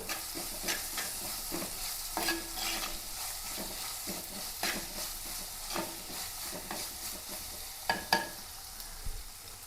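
Onions frying in a pan on a home stove, stirred with a utensil: a steady soft sizzle runs underneath while irregular scraping strokes come and go, close and moderately loud, with no voices.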